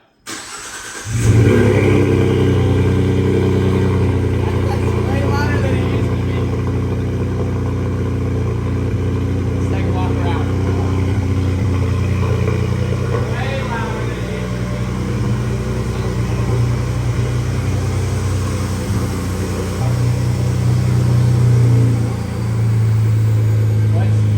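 A Ford 3.5 EcoBoost engine with a newly fitted full exhaust system cranks and starts, then settles into a loud, rough idle with throaty exhaust rumble and occasional revs; voices are heard over it.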